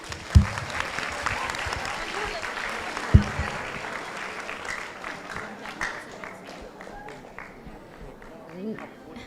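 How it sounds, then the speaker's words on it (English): At a hackathon event, an indoor audience gives a round of applause. Dense clapping opens with a couple of sharp, close claps and gradually thins and fades toward the end. "please give them a round of applause again"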